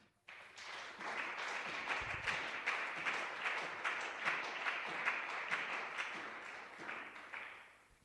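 Congregation applauding to acclaim the Lord at a prayer and fasting service, sustained crowd clapping with a fast, even patter, filling the room steadily for several seconds before tapering off.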